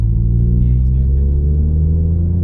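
A Ford Fiesta ST Mk8 with a remap accelerating hard to overtake, a loud steady low engine drone heard from inside the cabin with the pitch slowly rising, without talk.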